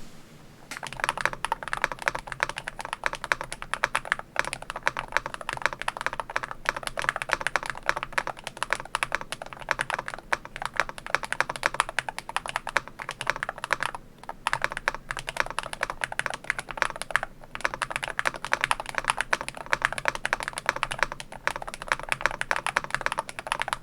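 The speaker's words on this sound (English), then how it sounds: "please enjoy the sound test on the G84 HE by Epomaker" An Epomaker G84 HE mid-sized Hall-effect keyboard being typed on continuously, producing a rapid, close stream of clacky keystrokes with brief pauses and occasional heavier spacebar thocks.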